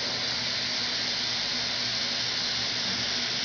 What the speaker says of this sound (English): I can also use this compressed air can and introduce cold air to the system.